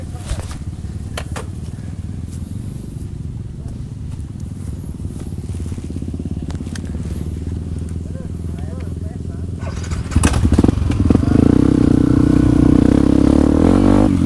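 A Yamaha WR155 trail motorcycle rumbles and revs on a rough, rugged dirt track, with engine drone throughout that swells louder toward the end, amid clattering and people talking over it.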